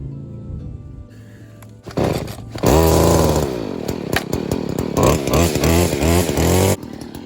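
A Stihl FS40C gas string trimmer running on 50-to-1 fuel mix is pulled and coughs to life, then settles into a loud, buzzing two-stroke idle with brief throttle blips, close to the listener.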